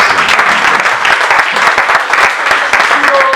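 Dense, steady audience applause with cheering fills the hall throughout, loud and close, with a few voices faintly mixed in.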